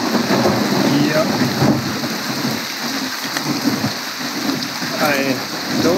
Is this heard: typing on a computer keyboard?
no